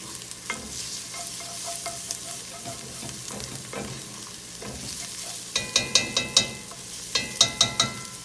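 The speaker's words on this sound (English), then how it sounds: "along with 4 cloves of garlic. And I'm going to let this get nice and translucent with the onions." Onions and four cloves of garlic sauté in a pan with a steady sizzle, broken by several sharp bursts of spoon clatter against the pan near the end.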